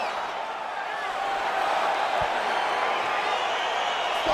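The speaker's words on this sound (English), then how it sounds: "crowd getting excited as this fight gets underway" An arena crowd roars and cheers at the start of a fight in the EA Sports UFC 4 video game on PS5, a dense, steady wash of crowd noise with a faint thud partway through.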